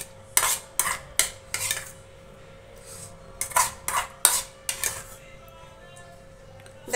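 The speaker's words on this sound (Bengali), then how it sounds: "প্রথমে দিয়ে দিচ্ছি দই, এখানে 2 কিলো মতন চিকেন আছে" A spoon clinks and scrapes in a bowl as thick yogurt is scooped onto about 2 kg of chicken, a run of sharp metallic taps in uneven clusters.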